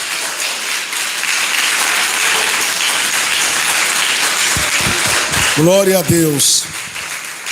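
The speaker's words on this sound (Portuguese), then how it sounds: "Mais alegre as palmas." Congregation applause fills a church service as a steady bed of clapping, joined near the end by a preacher's voice speaking over it.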